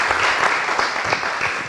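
Audience applause at a conference panel on urban planning regulations, welcoming the mayor of Cartago; dense steady clapping from a crowd, fairly close and sustained throughout with no talk over it.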